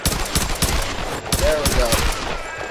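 Rapid machine gun fire in the Tomb Raider video game, a dense, steady stream of loud close shots continuing without pause throughout.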